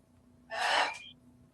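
A pet bird gives a single short, harsh, breathy squawk indoors, lasting about half a second and rising out of a quiet room, with nothing else following.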